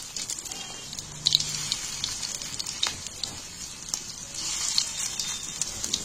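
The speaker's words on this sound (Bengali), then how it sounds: "এবারে এটাকে আস্তে করে আস্তে আস্তে জাল দিয়ে ভালো করে এপিট ওপিট করে ভেজে নিতে হবে" Fish roe rolls fry gently in oil in a pan, turned over side to side, giving a steady soft sizzle and crackle throughout with a few sharper pops.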